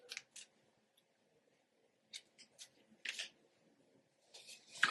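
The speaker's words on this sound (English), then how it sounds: "I'll cut the lace in 4 and do like this, so a bit easier to lay you up." Scissors snip through the lace of a straight ginger lace front wig in a quiet room, several short crisp cuts in irregular bursts with pauses between them, close and fairly soft.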